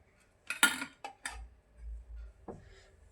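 A spoon clinks and scrapes against a pot while pressing down leftover ghee residue: a few sharp metallic taps and scrapes close by, then one more knock after a short pause, with low rumbling between.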